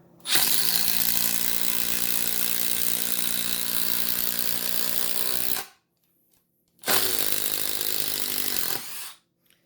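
A Milwaukee M12 Fuel second-generation brushless impact driver drives a large-diameter Tapcon concrete screw at full power, a loud, steady hammering whine for about five seconds, a short pause, then a second burst of similar length.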